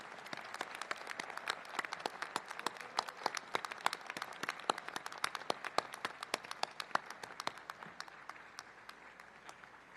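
A commencement crowd of law school graduates applauds their families, a sustained wash of many hands clapping with sharp individual claps standing out, fairly distant and steady before slowly thinning toward the end.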